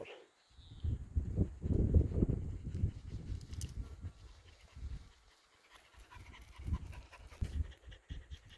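Pig-hunting dogs work through a stretch of forest, panting heavily in close, uneven bursts with quieter gaps between breaths.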